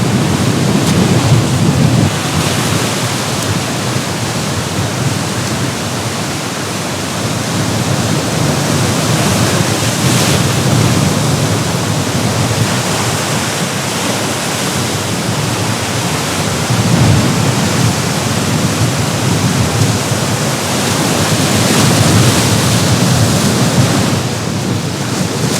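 Strong wind buffeting on a remote New Zealand coast, a loud continuous roaring rush with gusty swells throughout, no voices.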